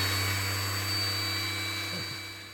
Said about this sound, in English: So I'll be using this sander of mine that I've had for close to 30 years now.